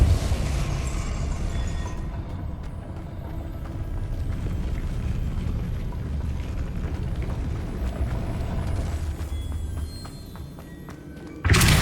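A Depulso spell cast in Hogwarts Legacy rumbles as a dense, sustained stretch of heavy thumps and thuds, then cuts off abruptly before a sharp loud burst at the very end.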